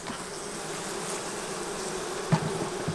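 Honey bees swarm and buzz around small queen mating nucs, a steady, dense drone holding close and loud through the whole stretch with a couple of brief bumps near the end.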